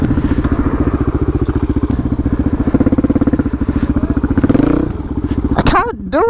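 Off-road motorcycle engine revving hard and steady under load for about five seconds, loud and close with clattering and thumps from rough ground, then dropping away as a rider's voice cuts in at the end.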